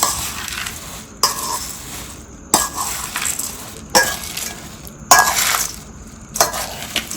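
Bhel ingredients with salt and masala being tossed and stirred in a bowl, in repeated bursts of rustling and scraping, roughly every second or so, loud and close.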